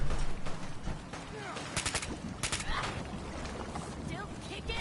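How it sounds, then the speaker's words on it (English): Gunfire rings out in Fallout 4 during a fight inside the Institute: a few sharp, rapid bursts of shots amid busy game noise and background sound effects, moderately loud and layered over continuous ambient clutter. "Shooting."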